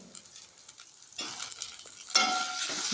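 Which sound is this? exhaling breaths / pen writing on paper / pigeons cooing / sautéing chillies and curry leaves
sautéing chillies and curry leaves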